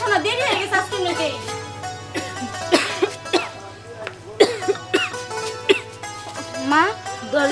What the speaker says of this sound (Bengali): মা তোমার কাশিটা দেখে আমার বাড়ছে